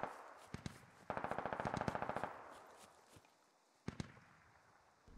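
Automatic rifle fire with tracers in the tactical shooter game SquadOps: a few scattered shots, then a rapid sustained burst of about a second, and a final sharp report, with no voices.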